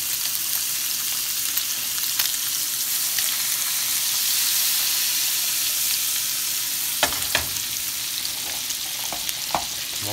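Butter sizzles and fries in a pan with seasoned lamb, cumin and paprika, a loud, steady hiss with a few sharp pops and stirring scrapes near the end.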